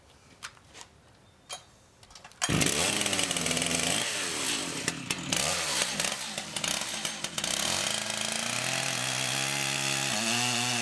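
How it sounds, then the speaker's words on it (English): A chainsaw roars to life after a couple of quiet seconds and runs steadily, its pitch rising and dipping as it cuts a green wood log in half. "I'll use a chainsaw to cut it in half"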